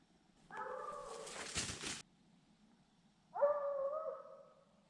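Two bursts of a hunting hound's bay during a bear hunt, a drawn-out howling bark and then another after a pause, sounding somewhat distant over quiet background.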